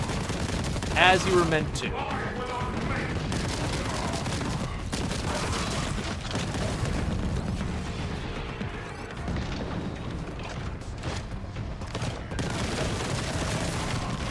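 Warhammer 40K: Boltgun gameplay in a cathedral setting: dense, continuous gunfire and explosions rolling on without pause, loud throughout, with a voice speaking briefly over the din.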